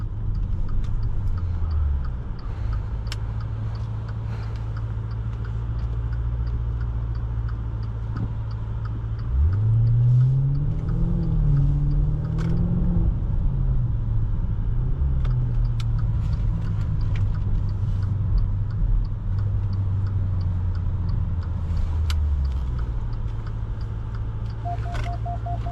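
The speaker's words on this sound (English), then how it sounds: "let's hear this engine or exhaust. Yeah, it sounds pretty awesome." A 2019 Maserati Levante Trofeo, a 590 hp SUV, accelerates hard with a loud rising V8 engine and exhaust roar midway, surrounded by a steady low cabin drone.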